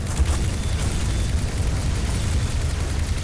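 A bomb explodes in the video game Garry's Mod, giving a loud, dense, sustained rumble and roar that fills the whole moment without a pause.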